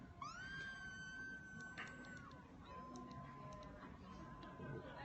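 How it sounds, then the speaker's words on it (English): Faint, distant screams rise and fall as long high wails, heard far off under a quiet steady background with soft speech-like murmurs. "Lots of screaming coming from over there."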